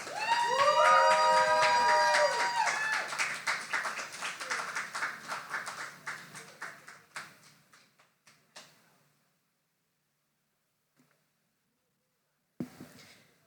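An audience at a poetry slam applauds and cheers loudly at first, voices rising over dense clapping, then the applause thins and fades to scattered claps and near silence, with one last short burst at the end.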